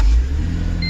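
A 2005 Mercedes C240 engine cranking and catching on a newly programmed key, a loud, close low rumble running steadily for under a second with a brief higher whine near the end.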